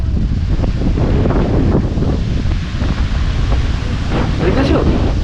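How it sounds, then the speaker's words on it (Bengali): Rough sea waves churn at the estuary mouth near Chilka Lake, a loud, continuous roaring wash heard up close through heavy wind buffeting on the microphone. "দেখো পুরো সমুদ্র পুরো উথাল পাতাল করছে।"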